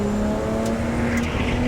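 Lotus Exige V6 Cup car on a race track, a loud steady engine drone with a clear rising tone as it accelerates, heard from inside the car with no voices.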